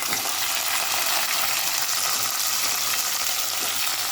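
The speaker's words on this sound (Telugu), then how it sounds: "వేగింది, ఎల్లిగడ్డ వేగింది" Garlic frying in a pan of oil for drumstick dal rasam, a dense steady sizzle with a few faint stirring clicks throughout.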